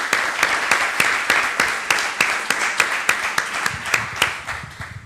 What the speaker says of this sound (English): a big applause for our tour advisors